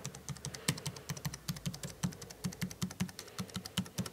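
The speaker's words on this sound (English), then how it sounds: "I'm just going to type on a few of the letters" Typing on the standard QWERTY letter keys of a Cherry DW 9500 Slim keyboard, a quick irregular run of light, crisp key clicks close to the microphone, steady and unaccompanied by speech.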